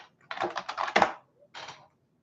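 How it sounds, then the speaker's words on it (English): Computer keyboard typing Foley effect: a quick run of crisp key clicks in a short burst, a brief pause, then one more small cluster of taps, close and clear. "how'd you like that keyboard Foley?"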